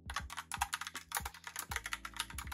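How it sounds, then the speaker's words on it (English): Typing on a fairly heavy Logitech Pop Keys mechanical keyboard: quick, close, irregular clacking keystrokes in bursts, crisp and fairly soft, with a few deeper thocks, no voices present. "I like the Pop Keys mechanical keyboard for using at home because it is fairly heavy. I like the sound this makes when typing"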